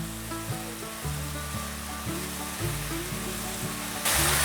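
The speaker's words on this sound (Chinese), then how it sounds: "炒的过程，金针菇会冒出水分，要不断的翻炒。" Enoki mushrooms stir-fry in a pan with a steady, moderate sizzle and regular tossing scrapes, accompanied by a rhythmic musical background; a sharper hiss rises at the very end.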